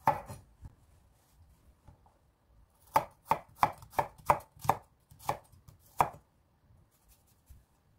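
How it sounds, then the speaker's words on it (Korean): A knife minces garlic for Korean jijim nureumjeok, with about eight crisp, quiet chops landing on a board in a quick, slightly uneven run, then a pause and one last strike. "마늘을 다져 보도록 하겠습니다."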